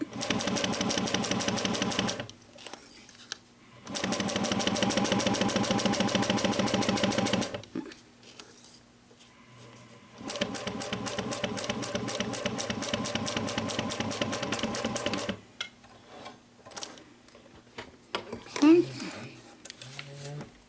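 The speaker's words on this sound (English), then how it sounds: "So I'm going to stitch with a 1/4 inch seam allowance" A sewing machine stitches a quarter-inch seam on a mini box tote, running in three long steady bursts of rapid mechanical whirring separated by pauses, close up, with a person talking in the gaps.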